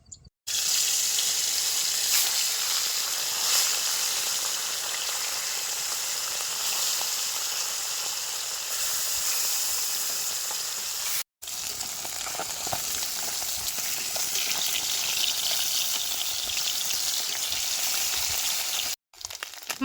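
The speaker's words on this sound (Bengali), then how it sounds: "মাছগুলো দেখেন কত সুন্দর লাল লাল করে ভাজা হয়ে গেছে" Fish pieces, salted beforehand, frying in hot oil in a wok during a rural-style village cooking session, giving a loud, steady, dense sizzle that runs almost unbroken with two brief cut-offs and no talking.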